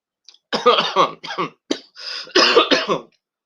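A series of rough, forceful coughs in quick bursts, close and loud, separated by brief pauses.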